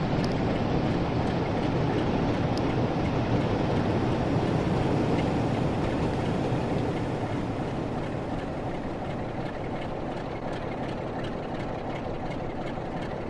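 A train departs a station in the Train Sim World 4 game on the Blackpool North to Preston line, giving a steady, loud rail rumble with broadband wheel and engine noise that holds throughout, slightly easing toward the end, with no talk.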